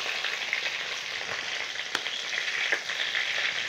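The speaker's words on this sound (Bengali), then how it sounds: "পটলটা ভাজা চলছে, পটলটা আর একটু করে ভেজে নিই।" Pieces of pointed gourd sizzle steadily in hot oil in a pan, a close, continuous crackling hiss with a few small pops and no voices.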